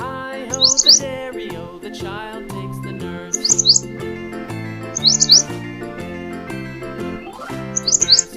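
Bright bulbul chirps arrive in four quick bursts, spaced a couple of seconds apart, over a steady, tuneful musical backing of a children's rhyme.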